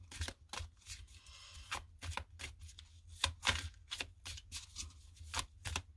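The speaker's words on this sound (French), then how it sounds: "Donc, on va mélanger les cartes." Tarot cards being shuffled by hand, a rapid series of crisp riffling bursts in an even rhythm, close and fairly quiet over a low steady hum.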